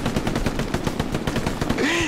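Rapid bursts of video game gunfire crackle in a quick, regular rhythm, close and sharp, with a brief voice sound near the end.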